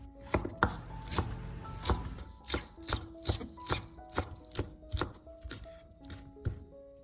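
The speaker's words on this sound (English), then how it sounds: "Prepare some green onions and chop them finely." Green onions are chopped finely with a knife on a cutting board, giving a quick, steady run of crisp, close taps that keep an even rhythm through the whole stretch without any voices.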